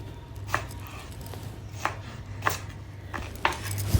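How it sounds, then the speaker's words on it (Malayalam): A knife chopping an onion into small squares on a board for a chickpea curry: about five crisp, close thunks at uneven intervals over a quiet background. "ആ ഒരു സവാള ഒന്ന് ഇതുപോലെ ഒന്ന് സ്ക്വയർ ഷേപ്പിലൊന്ന് കുഞ്ഞായിട്ടൊന്ന് കട്ട് ചെയ്തിട്ടെടുക്കാം"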